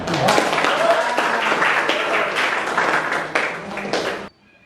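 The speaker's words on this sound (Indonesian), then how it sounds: "Ya, tepuk tangan semua." Applause from a classroom audience of teachers, a dense patter of many hands clapping steadily for about four seconds before it cuts off abruptly.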